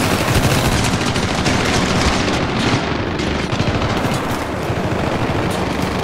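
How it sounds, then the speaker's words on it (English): Dense, loud enemy gunfire in the Syndicate video game, continuous automatic bursts from several shooters overlapping into a relentless roar with no pause. "I'm gonna stand pretty still while four people are shooting at me"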